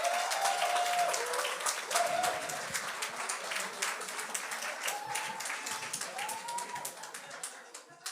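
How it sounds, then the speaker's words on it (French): A live comedy show audience applauds to welcome a comedian, with steady dense clapping that slowly thins and fades over several seconds. "On continue ces beaux applaudissements."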